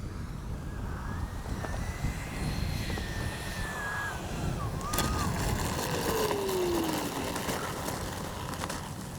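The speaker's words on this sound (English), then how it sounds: "Absolutely fabulous flying jet." A Freewing 90mm Zeus RC jet flies overhead, its ducted-fan whine steady and fairly loud over wind noise, with the pitch gliding as it passes and a rising, falling tone as it banks.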